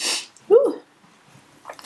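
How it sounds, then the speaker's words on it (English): A single quick sneeze bursts out, followed by a short breathy vocal sound and quiet breaths, close to the listener. "Oh, I got a sneeze."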